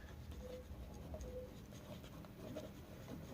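Pen or chalk writing out a heading during a maths lesson on natural numbers: soft, faint scratching strokes over a low background hum, steady for a few seconds with no talk.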